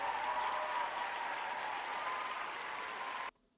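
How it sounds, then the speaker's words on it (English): Canned applause sound effect played on a live stream, a steady, uniform wash of crowd clapping that cuts off abruptly near the end, leaving near silence. "let me stop the applause"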